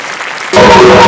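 Audience applause erupts halfway through, loud and dense, at the inauguration of a railway crossing on a ring road, after quieter background murmur.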